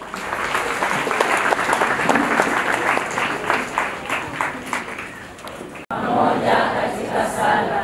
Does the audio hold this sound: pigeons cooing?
no